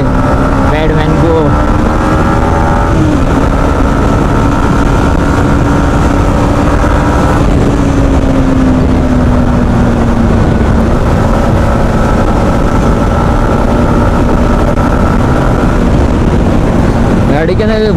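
A motorcycle engine drones steadily while riding at speed on a highway, a loud continuous hum with a gently shifting pitch, wind noise throughout and someone talking over it.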